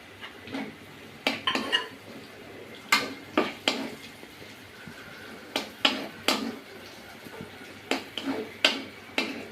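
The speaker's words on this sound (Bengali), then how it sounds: "মশলাটা কষানো হয়ে গেছে এবার আমি দিয়ে দেবো ভেজে রাখা মাছগুলো" Fried mola fish is stirred into cooked spice masala in a pan, with a spoon scraping and clinking against the metal in irregular bursts, quiet and close.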